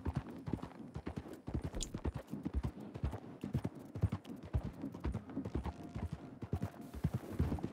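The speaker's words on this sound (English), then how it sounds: "Let's take a chilled pace to ride back now that I actually have a horse of my own." Horse hooves clip-clop at a relaxed riding pace in the Red Dead Online video game, a steady rhythmic run of close, crisp hoofbeats with no talking.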